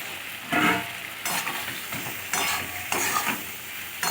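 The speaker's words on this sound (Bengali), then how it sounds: "এবার দিয়ে দেবো চিংড়ি, ভাজা চিংড়িগুলো, আর দিয়ে দেবো কচুগুলো।" Fried shrimp and taro hiss loudly in an oily pan, with repeated bursts of stirring every second or so, close up and with no talk.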